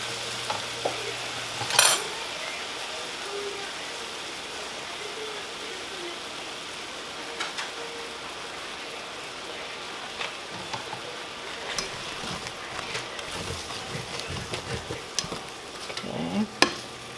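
Creamy sauce with shrimp and corn coming to a boil in a pan, a steady low sizzle and bubble with occasional spoon taps and scrapes, fairly quiet throughout.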